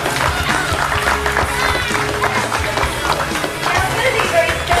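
A crowd applauds at a dolphin show, with dense, continuous clapping that holds steady for several seconds under a busy wash of background noise.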